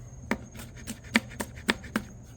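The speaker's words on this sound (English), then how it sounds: "Basically, we're just gonna julienne it." Knife slicing a pepper into thin julienne strips on a cutting board, about eight soft, evenly spaced taps close by, with no voices.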